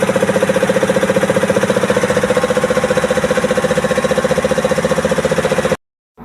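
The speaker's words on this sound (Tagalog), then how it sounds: "May kakaibang ingay kapag umaandar itong makina nito, 6BT Cummins." A nearly new Cummins 6BT diesel engine idling nearby with an unusual valve noise, a rapid, steady mechanical clatter ticking evenly over the running engine until it cuts off abruptly near the end.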